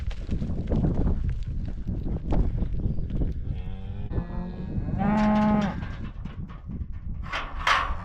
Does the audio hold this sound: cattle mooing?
yes